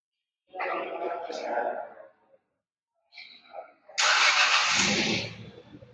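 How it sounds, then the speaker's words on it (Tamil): Kia Syros HTX turbo petrol engine started by push button, heard as a loud burst of engine noise catching and settling into a steady idle after a few quieter clicks and interior sounds. "இதை வந்து நீங்கள் லாங் ப்ரெஸ் பண்ணீங்கன்னாக்கா வண்டியோட என்ஜின் வந்து ஸ்டார்ட் ஆகும்"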